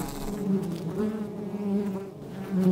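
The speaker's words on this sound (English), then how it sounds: "So these are European honeybees." European honey bees buzzing steadily at close range, a continuous droning hum with slight pitch wavering as they hover and move around, alone without talk.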